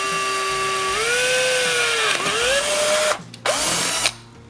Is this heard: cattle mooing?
no